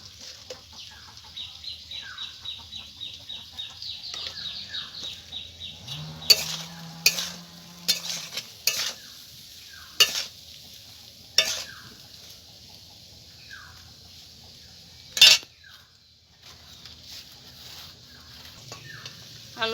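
Potatoes fry in mustard oil in a pan, giving a gentle, continuous sizzle. Slow, irregular scrapes and clinks of a spatula stirring against the metal break through it, with a sharper knock near the end.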